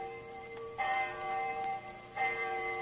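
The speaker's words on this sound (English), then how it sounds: "I remember the hour was striking." A church bell tolls the hour on a rainy night in Saxe-Coburg Square, London, with two clear strikes ringing out and long resonant hums sustaining between them, moderately distant and alone.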